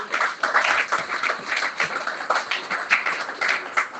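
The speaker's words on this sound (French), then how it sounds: "On applaudit le Seigneur de gloire." A church congregation applauds in worship, a steady, dense patter of many hands clapping at moderate distance with little speech over it.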